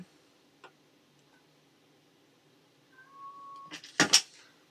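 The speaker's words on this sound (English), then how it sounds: "I have a cat meowing in the background." A vocal pet cat named Ozzy meows in the background, a quiet drawn-out call followed by a louder sharp meow near the end, after a mostly silent room with a faint tick.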